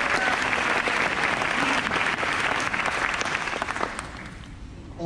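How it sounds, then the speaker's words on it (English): A crowd claps for the 2019 graduates at the Columbia University College of Dental Medicine postdoctoral graduation ceremony, a full, steady wash of applause that thins and fades over the last second. "Let's give them a round of applause."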